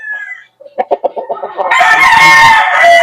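A gamefowl rooster at a game farm crows loudly and close, starting with a few choppy clucks before a long, strained, drawn-out call.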